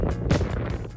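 Rough, blustery 18 to 20 knot wind on a sailboat at anchor near Dubrovnik buffeting the microphone in a loud, continuous roar with surging gusts, no voices.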